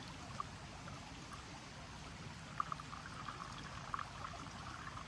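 Water trickles from an ITEHIL filtration system into a large jerry can at a camp, a faint steady stream with a few small drips and splashes.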